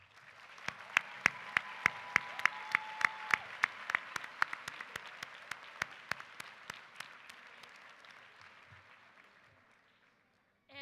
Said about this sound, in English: can you please stand and let's applaud them.